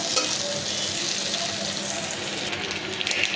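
Onion fries in hot oil in a pan for a pangas fish and pointed gourd curry, a dense, close sizzle running continuously with faint stirring, easing slightly toward the end.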